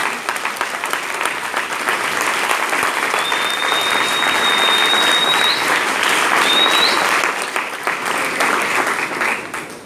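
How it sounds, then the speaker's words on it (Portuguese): Church congregation applauding together during an evening worship service, a dense, steady wash of many hands clapping that holds near and loud for the whole stretch, with a faint whistle or squeak briefly rising above it. "Desocupe as suas mãos e dê um lindo aplauso ao Senhor nessa noite"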